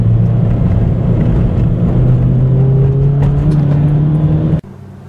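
A 2016 Scion FR-S automatic sports car drives along, heard from inside as a steady engine drone with a rising tone under road rumble, cutting away sharply at the end.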